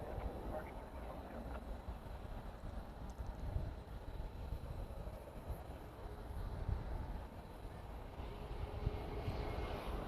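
An American Eagle regional jet at Dallas–Fort Worth airport at night produces a faint, distant, continuous engine rumble that holds steady throughout.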